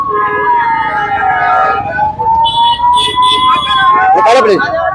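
A loud ambulance siren wails close by on a busy road at a political gathering, its rising and falling tone over crowd noise and voices, with traffic rumbling underneath.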